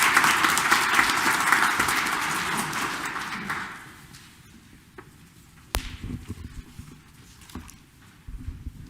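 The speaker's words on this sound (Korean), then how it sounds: "우리 자신들을 위해서도 우리 박수 한번 꼭 이렇게 치시기 바랍니다" A Korean Catholic congregation in a Detroit church applauds during Sunday Mass, a dense wash of clapping filling the room for several seconds before fading into quieter shuffling and a few knocks.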